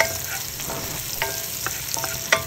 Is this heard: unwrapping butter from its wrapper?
no